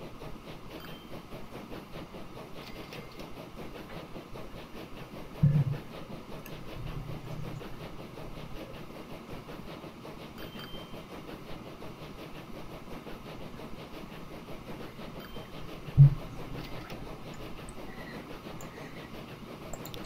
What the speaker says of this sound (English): I could drop a terminus train station in here and run a train line up here